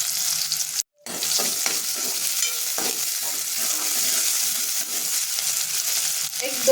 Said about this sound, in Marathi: आता ह्याच्यामध्ये मी बारीक कट करून घेतलेला लसूण टाकते आणि एक कांदा। आता हे परतून घ्यायचं आहे आपल्याला।